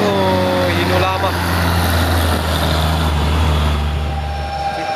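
An old Hino truck labours up a steep hill road, its diesel engine droning loud and steady throughout with a low rumble, while someone talks over it.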